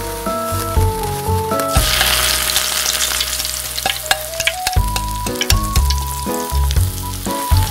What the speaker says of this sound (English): I love fried onions. We fry it with salt and pepper.